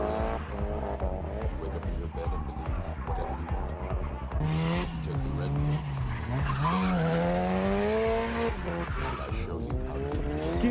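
A drift car skids through the main curve at the 2006 Drift Total GP Festival in Honjo, Saitama, its engine whine and tire squeal rising and falling loudly and continuously while a voice talks over it.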